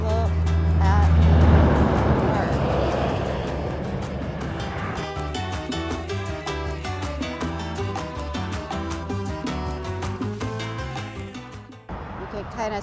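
Traffic on a busy freeway rushes past in a loud, steady roar that swells early and then settles under music for the rest of the stretch.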